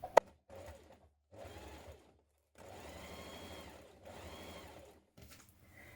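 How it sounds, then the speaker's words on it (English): A sewing machine understitches a facing seam a few millimetres from the edge on a shift dress, whirring in several soft, short runs of about a second each with quiet pauses between, after a sharp click at the start. "understitch a couple of millimetres from that seam just here"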